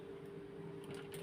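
Folded piping edge of a garment neckline stitched on a sewing machine, giving a steady low mechanical hum with a constant tone, faint and continuous for about a second, with no talk.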